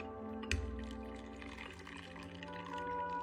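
Water is poured from up close into a cup for an unflavored gelatin dessert: a short, steady liquid stream that begins with a small splash.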